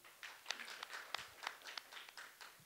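At a singing competition, the audience applauds a judge with a soft, thin run of handclaps, faint and somewhat irregular, from a small number of people.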